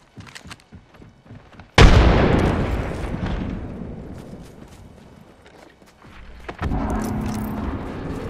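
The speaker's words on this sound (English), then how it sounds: "Throwing grenade." A grenade detonates in Apex Legends with a sudden, loud, close boom that rumbles and decays over several seconds, followed by a quieter burst of noise, with faint clicks beforehand.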